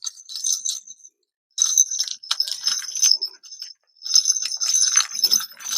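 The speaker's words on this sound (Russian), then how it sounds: "Колокольчик звенит, звуку ничто не препятствует" Small bell jingling inside a homemade device taped together, bright metallic tinkles in irregular bursts separated by brief pauses, close and fairly loud.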